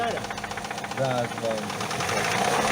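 A steady rhythmic knocking from worn engine bearings taps through an idling, revving Opel Vectra engine, close and mid-loud, with a faint voice briefly underneath.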